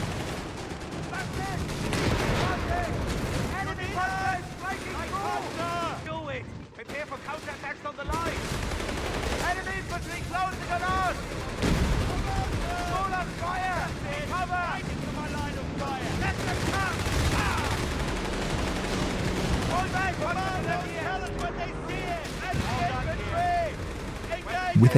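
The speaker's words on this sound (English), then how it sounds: "Our machine gun team redeployed fast, locking down the breach." Machine-gun bursts and scattered gunfire from a Company of Heroes 3 battle, dense rattling volleys with booms almost nonstop, loud and close, with voices mixed in the game soundtrack.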